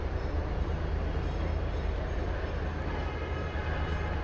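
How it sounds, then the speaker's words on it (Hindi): A Delhi Metro Yellow Line train runs steadily with a continuous low rumble and wheel noise, loud and close throughout, with no talking. "और आपको मैं दिखा रहा हूँ, ये मेट्रो है, ये येलो लाइन है।"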